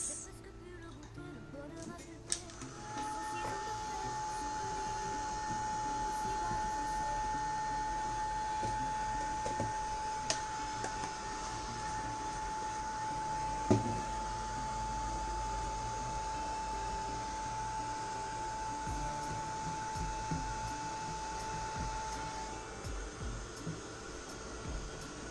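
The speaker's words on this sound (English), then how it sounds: "Now I will be using my heat gun to speed up the drying process." A heat gun dries a decoupage napkin on a wooden box, giving a steady, close blowing roar with a thin whine that holds evenly throughout.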